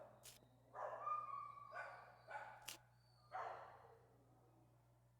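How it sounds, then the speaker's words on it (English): Cartoon pit bull puppies yap and bark in several short separate bursts, moderately loud and close, with a steady low hum underneath and brief quiet gaps between the barks. "Well, Abby, these little pit bull puppies have had a rough life."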